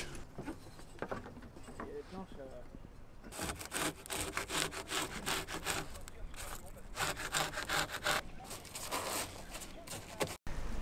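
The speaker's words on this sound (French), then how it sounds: "Là on est en train de découper de l'isolant pour le mettre dans la fondation" Insulation board for a floor foundation is sawn by hand during construction of a small dome house, giving continuous rasping back-and-forth strokes, close and loud, with a faint voice in the background.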